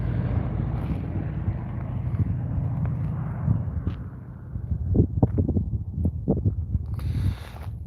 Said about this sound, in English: Here comes the number 2 aircraft. Just cruising by.